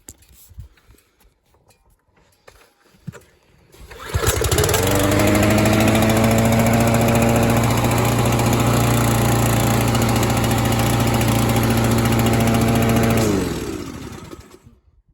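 A lawn mower engine, just out of winter storage, is pulled and catches after a few quiet seconds, then runs loud and steady at close range for about nine seconds before winding down and cutting off.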